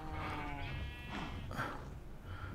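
A mooshroom, the mushroom cow of the video game Minecraft, gives a short, faint, drawn-out animal call followed by softer grunting tones over a low steady background.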